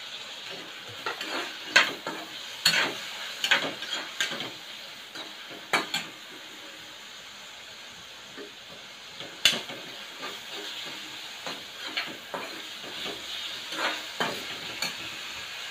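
Chopped tomato fries in a pan with curry leaves while being stirred, with a soft background sizzle broken by repeated sharp scrapes and clinks of the spoon against the pan.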